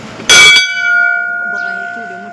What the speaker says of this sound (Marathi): तर घंटी मी वाजवते आहे बघा.